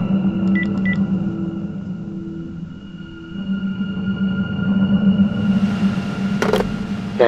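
A telephone being dialed as a sound effect: a few short electronic beeps early on over a steady low drone and rumble, with a sharp click near the end.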